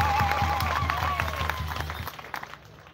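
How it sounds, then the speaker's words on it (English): Audience clapping at a bishop's seventh episcopal anniversary celebration, a steady patter of many hands lasting a couple of seconds, then thinning into scattered claps, with background tones under it. "Another clap."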